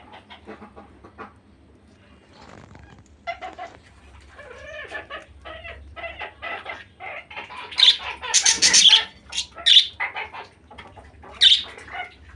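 Pet budgerigars chirp and squawk inside a large new cage, starting with soft twittering and building to several loud, shrill calls in bursts toward the end.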